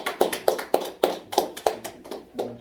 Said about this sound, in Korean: 자, 박수 한번 주십시오.